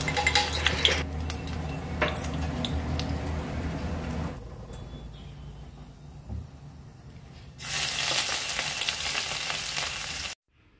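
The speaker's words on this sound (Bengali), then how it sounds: "প্রথমে কড়াইতে পরিমাণ মতো সর্ষের তেল দিয়ে 5 ফোড়ন আর শুকনো লঙ্কা দিয়ে দিলাম।" Hot mustard oil sizzles and crackles steadily as panch phoron and dried red chillies fry, with a few utensil clinks, a quieter lull midway, then loud sizzling again.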